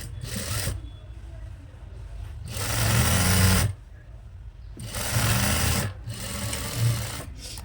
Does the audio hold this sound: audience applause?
no